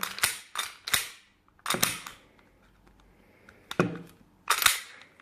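A Bell airsoft Glock 17 pistol being loaded and handled, with a series of sharp, close plastic clacks and snaps in uneven bursts, separated by brief quiet handling noise.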